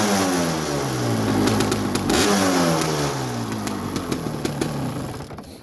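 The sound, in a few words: Suzuki LT250 Quadracer engine running and revving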